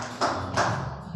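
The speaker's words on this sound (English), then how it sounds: "Give him another round of applause." Applause from the audience at a poetry event, a short wash of clapping with two sharper bursts, at moderate loudness.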